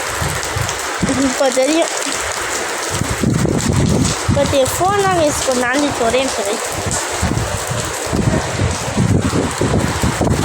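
Steady rain falls outdoors in Guduvanchery, a constant hiss running through the whole clip beneath someone talking close to the phone.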